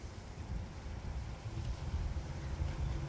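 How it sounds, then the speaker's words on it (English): Low, rumbling wind buffets steadily and fairly quietly, with gusty fluctuations and a muffled roar across the whole stretch. "A lot of wind, which is kind of scary."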